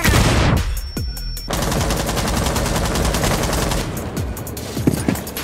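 Loud, dense automatic gunfire in the Rainbow Six video game, a rapid unbroken stream of shots with brief gaps and a few single reports near the end.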